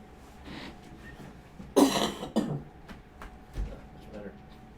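A single rough cough rings out near the microphone, followed by a couple of smaller throat sounds in an otherwise quiet room.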